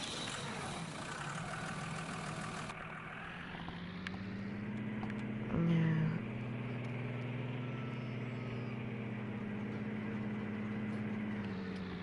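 A Lamborghini tractor engine in Farming Simulator 19 cranks and fires up, then settles into a steady low idling rumble that holds loud and close for the rest of the stretch, with a brief louder burst near the start.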